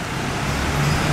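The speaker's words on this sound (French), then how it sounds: "c'est la voiture de Google Maps" A Google Maps car passing by on a street: a steady, mid-loud engine and road rumble with a broad traffic wash that swells slightly toward the end.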